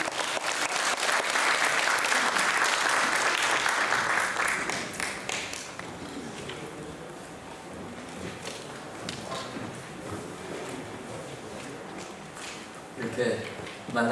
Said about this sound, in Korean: 우리 나오실 때 입장 박수로 환영해 주시기 바랍니다.